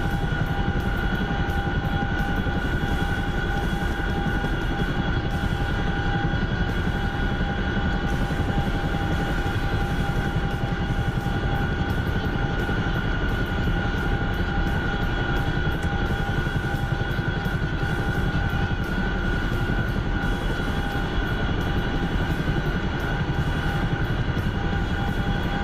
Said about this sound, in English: Oh, I love flying the Chinook.